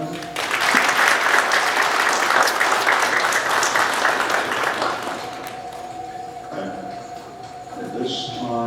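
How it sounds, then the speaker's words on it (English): An audience at a live-streamed event gives a big round of applause, loud dense clapping that carries for several seconds, then fades under a steady tone and scattered room noise. "big round of applause for everyone."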